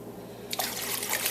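Apple cider vinegar poured over a rusty Dutch oven, a steady splashing trickle of liquid that starts abruptly after a brief quiet moment and continues close by.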